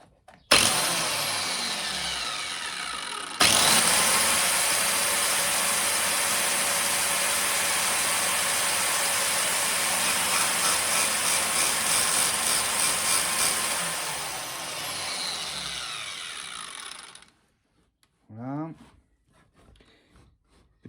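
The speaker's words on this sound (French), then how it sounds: "On lance la machine." A shoe sole cutting machine starts and runs with a loud, steady mechanical whir and rattle for about fourteen seconds, then cuts off, leaving brief clunks and a short sliding sound.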